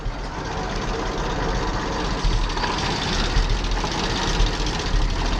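Old tractor engine idling at slow RPM, a steady, close low rumble with slight uneven pulsing throughout, with no voices.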